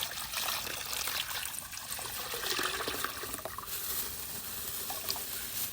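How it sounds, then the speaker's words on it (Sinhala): Fresh water pouring into a container in a Japanese convenience store, with a steady hissing trickle and splash that runs evenly throughout, fairly quiet and without voices. "අලුත් වතුර එක මේකට දාලා"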